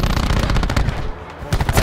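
Rapid automatic gunfire in the video game Black Ops 4, loud close bursts of shots with a short lull before firing resumes.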